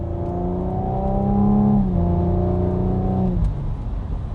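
A 2021 Audi S5 Sportback engine accelerates steadily, its tone rising and then falling back as it shifts gear, heard from inside the car with a continuous droning hum.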